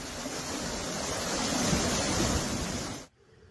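Tropical storm wind and surf roar as a dense, loud wash of noise during a storm lashing Southern California, then cut off abruptly near the end.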